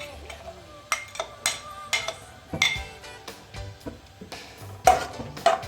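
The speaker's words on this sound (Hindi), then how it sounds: "यहाँ पर फ्लेम ऑन करके इस पर मैंने कढ़ाई रख दी है और कढ़ाई में मैं सबसे पहले ऐड करूँगी चॉप किए हुए प्याज।" A kadai goes onto the flame and chopped onions are added, heard as a run of close metallic clanks and clinks from pan and utensils with quieter handling between, and a little background activity.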